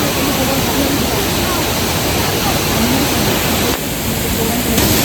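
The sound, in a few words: Kempty Falls waterfall in Mussoorie, water plunging into pool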